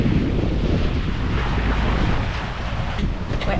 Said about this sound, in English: The wind has blown up a little bit more than what they said